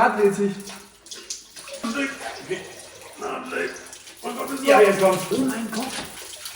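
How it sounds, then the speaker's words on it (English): Water pours and splashes steadily out of a tilted BMW E46 engine onto a workshop floor, a continuous gushing flow that swells near the end, with a voice heard at times. "I tilt the engine and surprise! Aqua park. Water. Everywhere is water."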